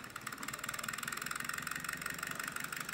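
A small Old Model Company OMC-3 Froment eddy current engine, a model with four metal contacts on its flywheel and two coils, runs with a steady, rapid mechanical whir and faint regular ticking, quiet and close.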